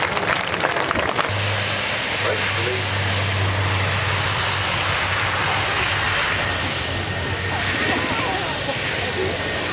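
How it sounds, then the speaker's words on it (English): A Boeing Super Hornet multi-role strike jet flies a display at the Farnborough airshow, its engine roar a continuous, loud, broad wash with a steady low drone underneath. "multi-role strike aircraft, the Super Hornet"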